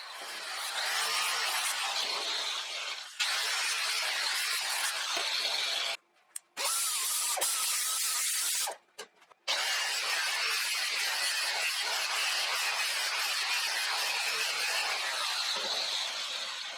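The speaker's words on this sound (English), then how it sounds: "I generally use an angle grinder for straight cuts like this" An angle grinder with a thin disc makes a straight cut through metal, a steady loud high-pitched grinding whine that runs almost continuously, with two brief pauses in the middle.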